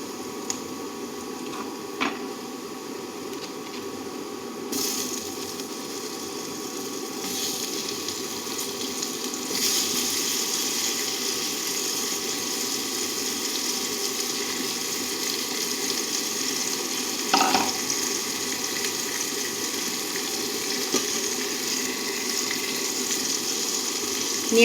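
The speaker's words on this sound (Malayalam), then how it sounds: "കഴുകി പിഴിഞ്ഞു വെച്ചിരിക്കുന്ന വഴുതനങ്ങ ഇതിലേക്ക് ചേർത്ത് കൊടുക്കാം." Washed brinjal frying with spice powders in a pan, a steady close sizzle with faint scraping and clatter from stirring, continuous throughout with no speech.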